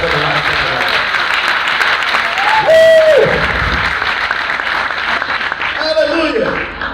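A congregation at a church vigil claps in praise, a continuous crowd of hands filling the space while a preacher's voice rings over it and fades.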